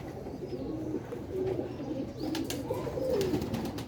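Ali wale pigeons from Sialkot coo in soft, rolling low calls, several overlapping close by over a steady ambient hum.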